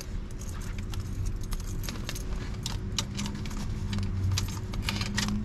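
Car keys for a 1969 Chevrolet Camaro with a 350ci V8 jangle and clink close by, a steady metallic rattle over a low rumbling background hum, with no one speaking.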